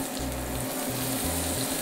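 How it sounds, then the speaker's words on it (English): Butter foams and sizzles steadily in a pan for a herb butter alongside monkfish, a continuous close frying hiss with a low hum underneath and no talk. "get that butter foaming really well, as it is right now"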